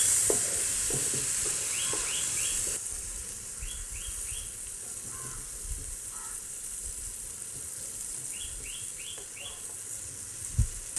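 Fish and onions frying in a pan over a lowered flame for Kerala meen moilee, a steady hissing sizzle running throughout with faint occasional stirs, while birds chirp softly in the background; no talk.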